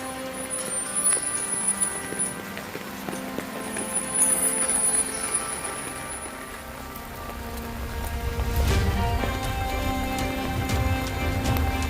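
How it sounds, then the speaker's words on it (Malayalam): Heavy rain falls steadily during a temple procession on the Palchuram pass near Kottiyoor, a dense hiss with faint tonal sounds through it and a louder low rumble swelling near the end. "ഈ സമയങ്ങളിലെല്ലാം ശക്തമായ മഴ തുടരുന്നുണ്ടായിരുന്നു"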